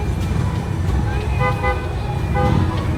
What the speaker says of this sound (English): that sounds like a big foghorn on the next one